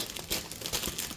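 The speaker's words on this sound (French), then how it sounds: "excusez-moi pour ce bruit de plastique" Plastic film and paper from a diamond painting kit crinkle close up in quick irregular bursts, soft and brief with small sharp crackles.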